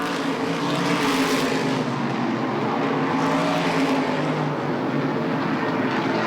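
Race cars lapping at Lee USA Speedway during an ACT stock car event, a continuous loud engine roar with swelling passes as cars go by, no talk.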